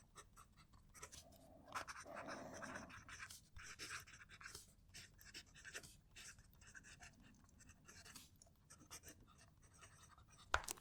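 A Ranga fountain pen with a stiff nib scratches across paper in short, irregular strokes, a faint, close, dry scratching with small pauses between strokes.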